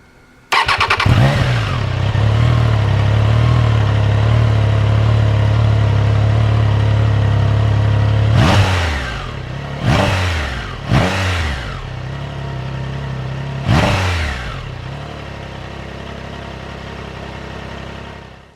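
A Triumph Tiger Sport 660 motorcycle engine cranks and catches, settling into a steady loud idle, then gets four sharp blips of the throttle that rise and fall in quick succession before dropping back to idle.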